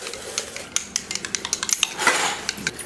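A spoon stirs a crushed herbal mixture of jujube leaves in a glass, a quick run of bright, close clinks against the sides, evenly spaced and then a brief swirl.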